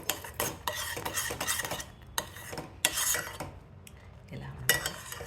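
Spoon slowly stirring a single spoonful of talbina (barley) powder into water in a pot, with repeated scraping and clinking bursts that come and go over a few seconds, fairly close and moderately quiet.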